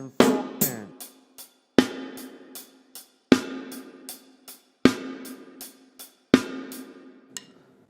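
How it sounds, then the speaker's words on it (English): Punk rock drum beat played as alternating single strokes between hi-hat and snare, with sharp snare cracks landing regularly and quicker hi-hat ticks in between, close and loud with no talking. "This is basically the single stroke roll, right, left, except you're going between the hi-hat and the snare"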